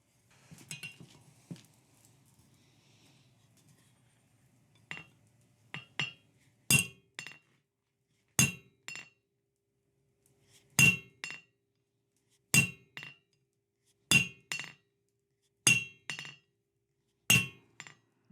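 Hammer striking hot steel while forging bolt-jaw tongs, ringing metallic blows at roughly one- to two-second intervals, sharp and close, after a few softer taps and quiet handling.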